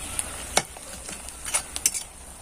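Potato and semolina snack pieces frying in oil make a soft, steady sizzle, punctuated by several sharp clinks and taps of a utensil against the pan. No voice is heard.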